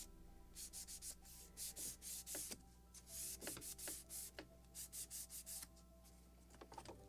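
Scotch-Brite pad rubs a wooden plank for a model ship of the 1776 gunboat Philadelphia, making a run of quick rhythmic scrubbing strokes, close and crisp, in short bursts without talk.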